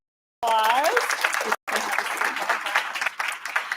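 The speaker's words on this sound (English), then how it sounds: "Can we give Bella a round of applause?" An audience at a school board meeting claps steadily for about three seconds, a dense patter of applause with a brief voice at the start.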